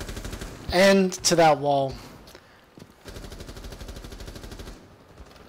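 Gunfire rings out in a competitive first-person shooter match as a player tests weapon recoil, with bursts of shots behind a commentator's voice and short quieter rattles afterward.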